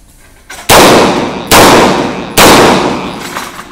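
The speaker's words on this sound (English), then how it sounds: "very first shots here inside the range" Three loud, sharp gunshots fired at targets inside an indoor shooting range, spaced under a second apart, each with a booming reverberant tail and no talking.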